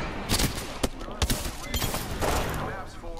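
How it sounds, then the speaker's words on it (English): Rapid gunshots from Apex Legends crack out in loud bursts against a busy game background, with voices talking over the firing. "I'm taking shots."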